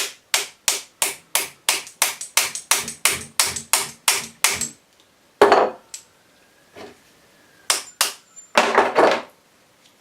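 A coin ring punch is tapped with the nylon end of a hammer in a quick run of about fifteen sharp, evenly spaced knocks, followed after a pause by a few scattered heavier blows and scraping handling sounds.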